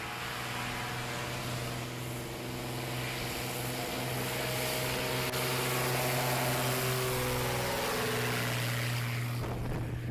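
A STOL touring-class airplane with its propeller engine, at a short takeoff and landing competition. The engine drones steadily and loudly throughout, with a firm low hum, then cuts off sharply near the end.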